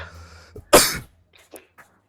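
One harsh, close cough rings out loudly, followed by a few faint breathy sounds in otherwise quiet surroundings.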